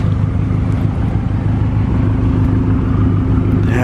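A BMW M5 engine idles steadily nearby with a deep, even rumble and a low pulsing throb that holds constant throughout.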